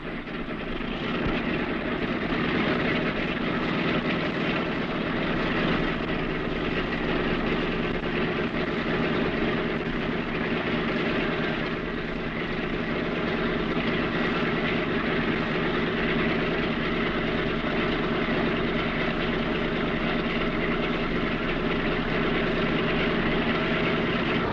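Steady, loud droning of a B-17 Flying Fortress bomber's large piston engines idling at low power before taxi, continuous and unbroken throughout.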